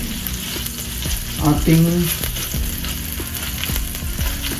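Onion and ginger fry in a pan for a spicy shrimp curry, hissing steadily while a utensil scrapes and stirs in quick clatters; a brief voice is heard over the sizzle.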